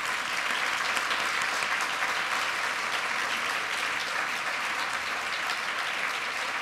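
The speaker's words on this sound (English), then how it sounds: "We want to give you an applause, everybody." Steady, sustained applause from a large audience at an education awards ceremony, dense and even throughout, with no voices standing out.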